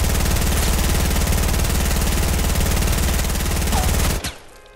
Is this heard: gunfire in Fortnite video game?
yes